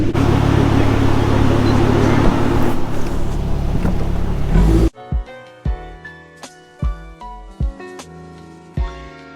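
A Volvo V70R with a turbocharged five-cylinder engine and loud aftermarket exhaust roars in a parking garage, a dense echoing drone for several seconds, then sharp burbling pops and crackles in a loose rhythm as it settles.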